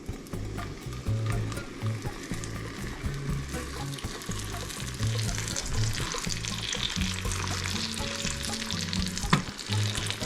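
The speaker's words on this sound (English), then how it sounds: "Let's get this beautiful back bacon in the pan." Rindless-edged back bacon, rind still on, frying in a pan with a dense continuous sizzle and crackle, occasional spatters and utensil clinks, close and loud throughout, no talking.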